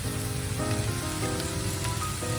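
Bacon sizzles steadily in a pan of fried rice seasoned with tamari, sesame oil, vegetable oil and butter, a constant close crackle running alongside faint tonal background sounds.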